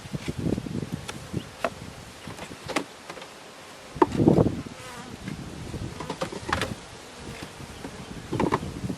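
Honey bees from a hive under inspection, with old drawn-out comb, hum and buzz steadily throughout, with individual bees droning close by in brief louder passes over a soft background.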